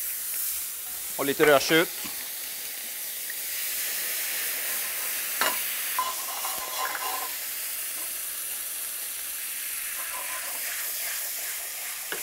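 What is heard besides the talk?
sherry vinegar deglazing a hot pan, sizzling and stirring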